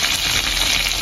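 Tempeh frying in a pan in a home kitchen, a steady close sizzle and hiss filling the whole moment without pause, with no talk over it.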